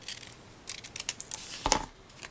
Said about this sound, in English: watch me cut the same thing over and over again